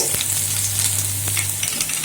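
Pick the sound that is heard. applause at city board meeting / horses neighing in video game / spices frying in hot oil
spices frying in hot oil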